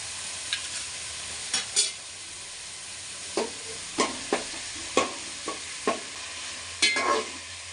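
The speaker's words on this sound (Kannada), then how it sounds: "ಇವಾಗ ಶುಂಠಿ ಬೆಳ್ಳುಳ್ಳಿ ಪೇಸ್ಟ್ ಹಾಕೊಳ್ಳೋಣ 1 ಸ್ಪೂನು" Ginger garlic paste frying with onions in a pan for restaurant-style vegetable fried rice, a steady sizzle under repeated sharp scrapes and clinks of stirring, close by and with no talk.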